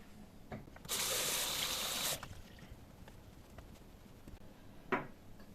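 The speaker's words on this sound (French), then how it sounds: "Je me rince les mains." Hands being rinsed under a running tap, a steady close gush of water lasting about a second, followed by quiet dripping and small splashes.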